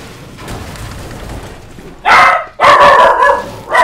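A dog barks nearby in a home while a Fortnite match runs, three loud sharp barks arriving in quick succession after a quiet stretch of low background noise.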